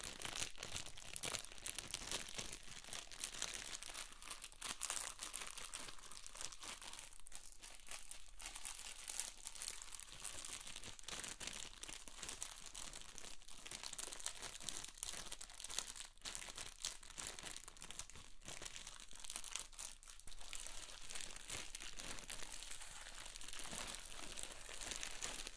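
Plastic bags from an Avon starter kit box crinkle steadily and close up for the whole stretch, a dense, soft rustle with no talking over it.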